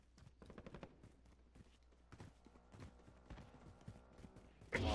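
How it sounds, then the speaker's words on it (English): Gunfire in Call of Duty: Modern Warfare: faint, distant shots crackle in quick irregular bursts, ending in a sudden louder burst of noise. "Gunshots this way."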